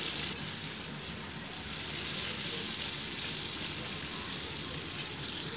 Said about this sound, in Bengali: আলুগুলোকে হালকা ভেজে নিচ্ছি আমি